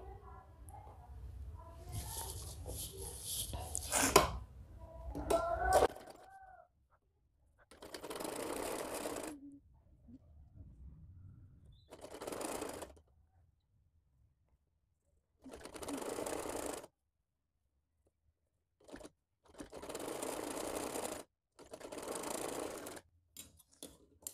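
A sewing machine runs in several short bursts while stitching a small baby ear cap, each run a few seconds long with quiet gaps between, after an opening stretch of handling noise and faint sounds.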